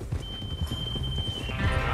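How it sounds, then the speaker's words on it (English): Horse hooves clip-clop at a steady walking pace in Red Dead Redemption 2, over a low background murmur, with a faint thin tone running through. "Is that horse okay, Arthur?"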